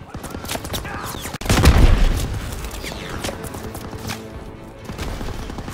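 Artillery shelling a beach in Call of Duty WWII, with one heavy close blast rising out of a constant crackle of gunfire and distant booms.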